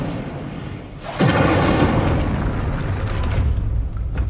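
A fire spell bursts in Hogwarts Legacy with a sudden loud whoosh-boom about a second in, then a roaring blaze that keeps going under a steady ambient bed.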